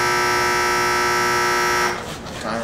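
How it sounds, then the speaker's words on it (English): A timer buzzer during wheel dipping sounds a loud, steady electronic drone for nearly two seconds and then stops. Quieter room noise and a faint voice follow. "timer's off."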